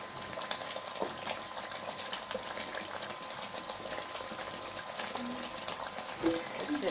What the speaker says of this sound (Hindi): ये देखें घी कैसे उछल रहा है मसाला।